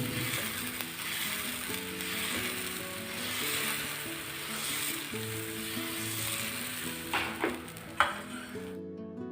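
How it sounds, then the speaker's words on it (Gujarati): Puffed-rice dosa batter sizzles and fries steadily on a hot oiled pan, a continuous close hiss with a few brief clinks of a utensil near the end. "આપણે બેટર નાખી દઈશું અને સરસ મજાનો આપણે ઢોસો બનાવી લઈશું"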